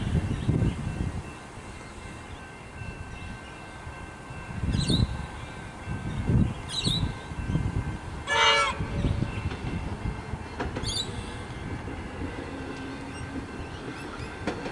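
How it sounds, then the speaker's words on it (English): A Melbourne suburban train on the Pakenham line rumbles through a station, heard fairly distantly, with a few short horn blasts and bird chirps over the steady rolling noise. "And I will be getting this train."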